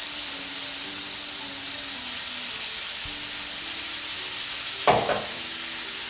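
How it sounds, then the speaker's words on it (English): Shrimp scampi with chopped garlic and diced tomatoes cooks in a pan, giving a steady, even sizzle and bubble throughout, with a brief clatter of a utensil near the end. "We're going to let this simmer for about 5 minutes until the shrimp turns to a nice pink color."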